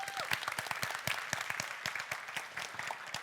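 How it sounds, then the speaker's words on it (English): Security conference audience giving previous speakers a round of applause, sparse distinct claps from a modest crowd at a moderate distance, fairly quiet. "I want to take the chance to give the previous speakers a big round of applause."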